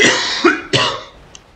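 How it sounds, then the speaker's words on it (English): A couple of sharp coughs, close and fairly loud, with a throat-clearing rasp, then quiet; no talking. "Sorry about the cough."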